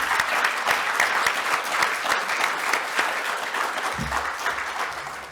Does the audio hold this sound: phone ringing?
no